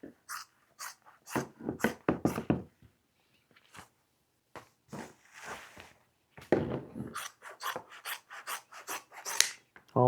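Scissors or shears cutting through upholstery fabric along a marked line for a seat insert, a quiet series of close rasping snips in short clusters with gaps between them.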